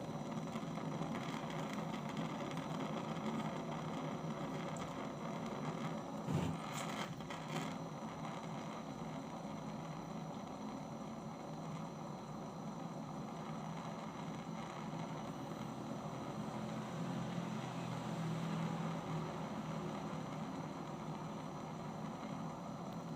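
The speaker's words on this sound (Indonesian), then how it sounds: "Di sini saya akan panaskan dulu platnya menggunakan gas portable." A portable gas torch heats the plate of a serviced car battery, giving a steady, continuous roaring hiss that holds level throughout, with a brief knock partway in and no speech.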